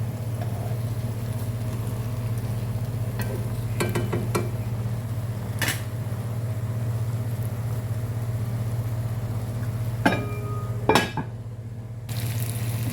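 Tandoori chicken masala is stirred as it fries in a pan, with scattered utensil scrapes and clinks over a constant background hum and a few sharper knocks near the end.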